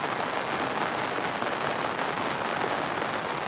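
Steady rain pours without a break in the Radhanpur area of North Gujarat, a dense, even hiss at close range with no voices.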